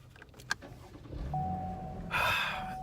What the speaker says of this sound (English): And let's start the car up.